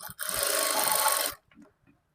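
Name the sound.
sewing machine stitching a maggam work blouse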